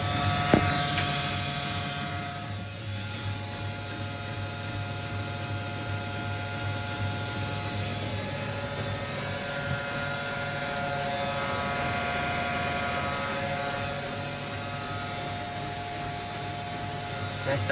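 A heavily repaired washing machine spins during its first test wash, a steady mechanical hum and whine with tonal motor drone that holds evenly throughout, near and moderately loud.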